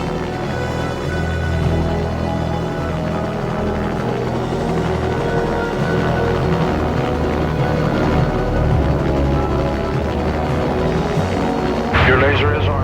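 Continuous loud rotor drone of a U.S. Army McDonnell Douglas AH-64 Apache attack helicopter, a heavy throbbing hum with a narrator speaking over it.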